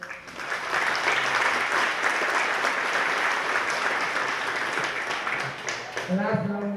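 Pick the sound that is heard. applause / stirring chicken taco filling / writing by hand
applause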